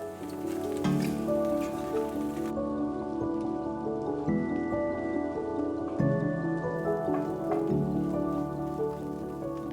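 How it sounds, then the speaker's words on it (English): Crumbled chickpeas and shiitake mushrooms sauté in chili oil, giving a steady crackling sizzle like light rain, with background music playing throughout. "Saute for a couple of minutes."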